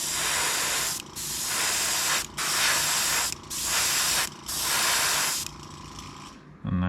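Airbrush sprays paint onto a 1969 Dodge Charger car model for an O scale train layout, five steady hissing bursts of about a second each separated by short pauses, close and fairly loud, ending with a brief clatter.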